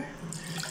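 Water from a shower runs in a steady, close hiss as a kitten gets washed, a short, continuous splashing stream with no voices.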